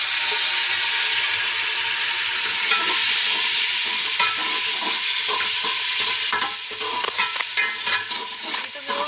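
Loud, continuous sizzling of hot tempering oil in a pan for kadhi pakora, with stirring scrapes, then a brief burst of harsher crackling as a little water hits the oil.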